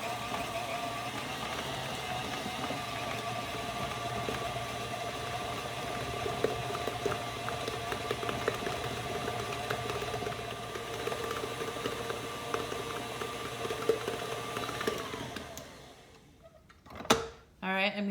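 An electric mixer creams butter, brown sugar and granulated sugar at medium speed, a steady whirring hum that runs for about fifteen seconds and then stops, with a few clatters afterward.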